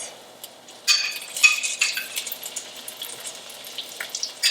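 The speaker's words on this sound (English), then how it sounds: "you can hear it sizzling" Close, steady sizzling of artichoke hearts frying in hot oil, with crackling bursts that swell and then settle into a continuous hiss.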